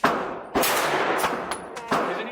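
Ruger Mark IV LITE pistol fired at a shooting range, three sharp close shots spaced about a second apart, with the loud ringing of the range filling the gaps between reports.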